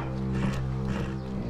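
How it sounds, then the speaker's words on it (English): A horse's hooves clop and shift nearby in a short burst, with a low steady hum underneath and no talking. "that horse is a killer, Ben."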